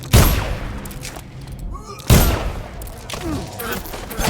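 Video game gunfire in bursts, a loud sharp volley at the start and another about two seconds later, each decaying into rumble, with faint voices between.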